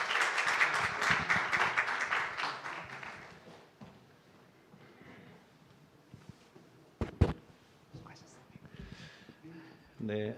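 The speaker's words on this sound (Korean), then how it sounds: "우리 환영의 박수 부탁드리겠습니다." Audience at a school vision-sharing event clapping to welcome a foundation chairman, a dense burst of applause at the start that fades out, followed by quiet room sounds and a few sharp knocks.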